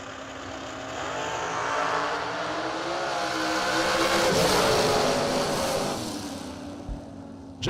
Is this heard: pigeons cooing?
no